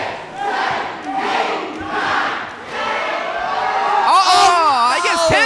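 A wrestling event crowd chants in rhythmic bursts, apparently counting along with punches in the ring, a loud rising roar of voices swelling then breaking into whoops and cheers.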